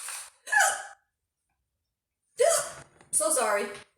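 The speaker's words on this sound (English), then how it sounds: "hiccups." Sharp hiccups come from a person in a home kitchen, four short sudden bursts in two pairs separated by silence, close and fairly loud.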